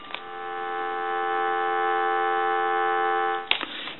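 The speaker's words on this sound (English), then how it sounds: "Give you some dial tone." A Western Electric Trim Line telephone gives a steady dial tone, a continuous harmonic hum held for several seconds, ending with a faint click.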